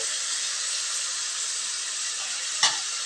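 Onions sizzling in hot oil for an egg boondi curry, a steady broadband hiss throughout with one brief louder crackle near the end; no talking.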